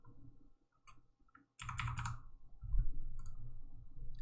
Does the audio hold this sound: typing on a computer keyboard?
yes